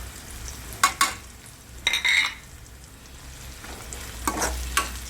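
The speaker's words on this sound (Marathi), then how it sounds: "कांदा भाजून झाला त्यात आपला हा मसाला आपण ॲड करायचा" Masala being stirred into fried onion in a pan for a spicy bhogi vegetable dish: a continuous low sizzle broken by several short bursts of scraping and clinking as the spoon works the mixture.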